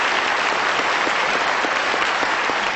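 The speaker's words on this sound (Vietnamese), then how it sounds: "một tràng vỗ tay nữa dành cho các thí sinh" Audience applause for contestants at a Vietnamese stage show, a steady dense burst of clapping filling the whole moment, loud and close with no talk over it.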